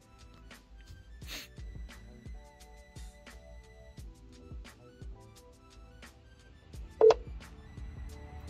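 Phone dialing in a 10th-gen Honda Civic through wireless Android Auto, faint ringing tones with soft clicks and one brief louder beep near the end, heard over a quiet car-cabin hum.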